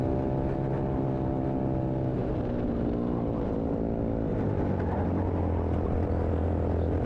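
A racing kart engine drones continuously with shifting harmonic tones, holding a steady level throughout with no talking, at Buckmore Park during a championship race.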